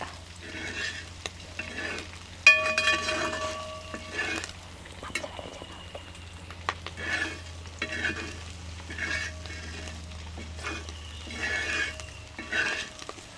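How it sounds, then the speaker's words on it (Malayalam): Beef fry stirred in a pan, with a spoon scraping and clinking against the metal in repeated strokes over a steady low sizzle, fairly quiet and without voices. "നന്നായിട്ടൊന്ന് മിക്സ് ചെയ്യുക"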